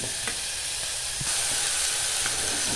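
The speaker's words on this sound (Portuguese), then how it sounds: "Aí eu deixo aqui fritando." Sweet-and-sour farofa with silver banana, onion, bacon and calabresa sausage frying in a pan, a loud continuous close sizzle with occasional stirring clicks.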